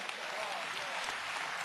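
A church congregation claps steadily in a dense, even wash of applause during a sermon, moderately loud and sustained through the short moment.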